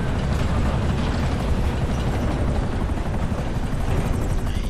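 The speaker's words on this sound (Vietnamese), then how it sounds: "Lết nguyên quả trực thăng vô luôn." A helicopter in GTA 5 Online roars with a loud, dense, unbroken rotor and engine drone, close and steady throughout with no talk over it.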